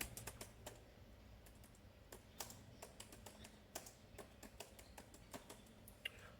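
A command for fastboot goes in on a computer keyboard as a quiet, close run of irregular key clicks and taps, some sharper than others, with no talking.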